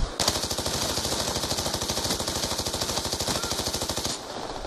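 Rapid automatic gunfire from an MP7 in the Call of Duty: Black Ops 2 video game, a loud, steady burst of closely spaced shots lasting about four seconds before stopping abruptly.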